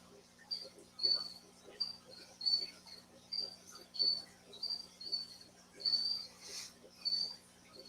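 Crickets kept indoors chirp in steady, evenly spaced bursts of high trilling, moderately near but soft, against a low constant hum in a quiet house.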